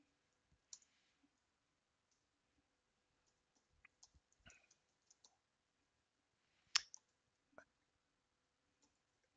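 Sparse, quiet keystrokes on a computer keyboard, in scattered short bursts of clicks with long pauses in between, heard close in a quiet room.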